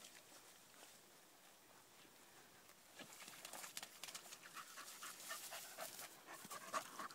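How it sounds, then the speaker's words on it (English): A dog that has been digging and bog snorkeling pants outdoors, quiet at first and then heavier, rapid, close breaths over the second half, with no talking. "You stinky dog."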